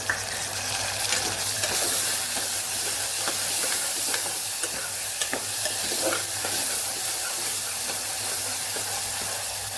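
Chopped tomatoes sizzling loudly in hot oil in a pan while making a pea and potato dish, a steady close frying hiss with small crackles and occasional stirring throughout.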